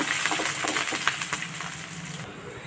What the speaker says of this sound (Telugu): వాటిని కూడా కాలనిద్దాం బాగా